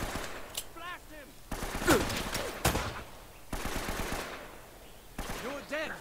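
Bursts of gunfire in the action game Uncharted: Nathan Drake's Fortune, several short clusters of shots separated by gaps, moderately loud, with a voice speaking between them.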